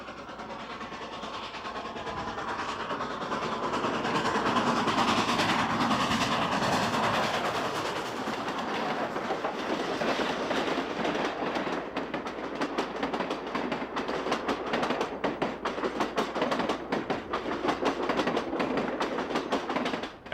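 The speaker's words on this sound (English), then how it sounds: "train 99, the Coast Daylight, arrives from Los Angeles and heads to the station at San Francisco" Coast Daylight passenger train 99 from Los Angeles rolls toward San Francisco station, a loud, steady rumble of cars on rails with rhythmic clicking over the joints building through the pass, no voices.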